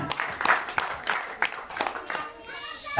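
Applause at the inauguration of a kindergarten building in Nabire, Papua: a crowd claps in scattered bursts of moderate loudness while a person keeps talking over it.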